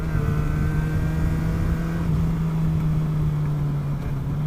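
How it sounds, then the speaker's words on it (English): A motorcycle engine drones steadily at close range through a downshift made without blipping the throttle, its tone holding fairly even with only a slight sag and no sharp rev spike. "I'm going to try and not blip while I'm downshifting for a bit."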